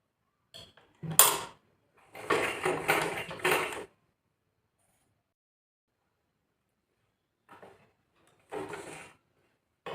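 A sewing machine stitches along the edge of a blouse sleeve lining in short, separate bursts of mechanical whirring and creaking, with silent pauses between runs and no talk.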